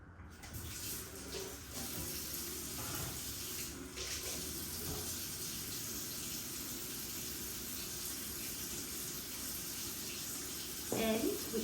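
Very warm water runs steadily from a kitchen tap as 1.5 cups are measured out for a yeast dough, a continuous close hiss of flow lasting throughout, with a few faint clatters near the end.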